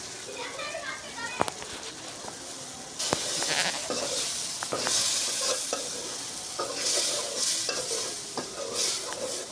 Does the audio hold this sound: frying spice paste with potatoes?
yes